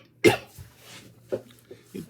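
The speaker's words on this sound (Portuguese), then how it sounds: "Tenho que tossir." A single sharp, loud cough bursts out close to the microphone, followed by a few softer throat-clearing huffs and small coughs in an otherwise quiet room.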